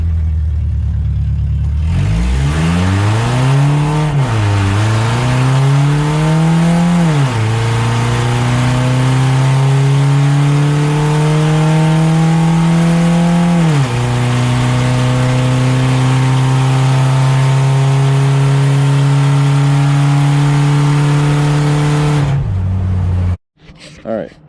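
A modified Toyota Previa minivan revs loud and near on a drag run, its engine note climbing through gear changes for about twenty seconds before cutting off abruptly.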